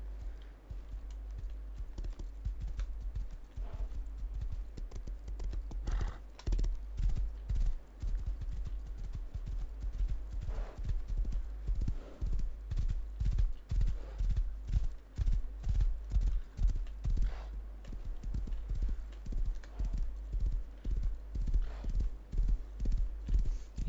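Horse hooves clip-clop as a horse is ridden over terrain in the survival game Rust, a quick, steady stream of close, rhythmic thuds that starts sparse and grows denser and louder, alone without talk.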